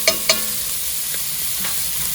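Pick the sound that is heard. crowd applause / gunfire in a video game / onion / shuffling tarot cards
onion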